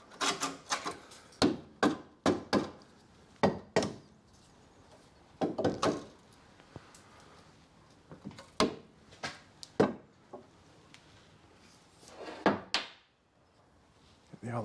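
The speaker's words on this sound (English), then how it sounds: "So I'm using a copper hide hammer, a very old one." An old copper hide hammer knocks on the lower suspension arm of a 2010 Mazda 2 1.5 petrol, giving sharp, close metallic-thudding blows in irregular bursts with short pauses between them.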